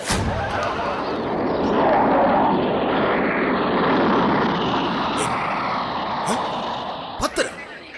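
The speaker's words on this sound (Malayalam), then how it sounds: "ദുബായ് ഫ്ലൈറ്റ് ആ പോകുന്നത്." An airplane on a Dubai flight passing overhead, a loud, steady roar that swells and fades across several seconds, with a few sharp knocks near the end.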